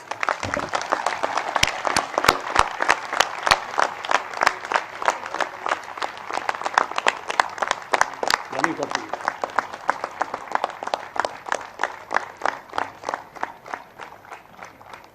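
Audience applause at the MICA 22nd convocation, with distinct, fairly close claps in a sharp, uneven rhythm that gradually thins toward the end, and voices mixed in among them.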